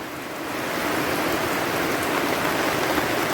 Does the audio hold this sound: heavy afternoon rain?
yes